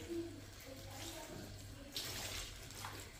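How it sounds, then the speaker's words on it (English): Water is poured into a cooking pot of eggplant sauce, a soft steady trickle and splash up close, with a brief louder gush near the end. "Put in a little bit of water to let it steam."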